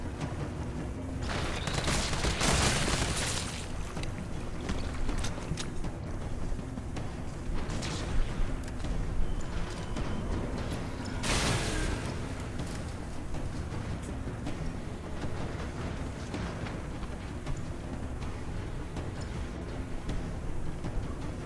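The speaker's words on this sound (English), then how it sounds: "the grenade landed a little bit too far from him, but it connected all the same." Grenade explosion in the video game Resident Evil 3 Remake, loud booming blasts within continuous dense rumbling combat noise and scattered impacts lasting throughout, no speech.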